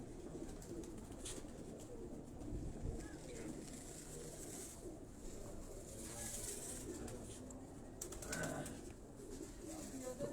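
Capped Bataray pigeons coo softly and intermittently against a faint background of rustling and movement, quiet and close.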